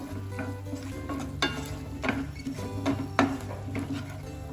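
Salt and red chili powder being stirred into a chili chicken mixture, soft scraping and wet mixing strokes at an uneven pace under a low steady hum, close but quiet.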